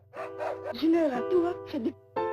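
A dog in the video game Moon gives a string of short, yippy, whining barks in several bursts, up close and clear over a faint low hum.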